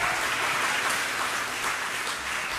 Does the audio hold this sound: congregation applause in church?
yes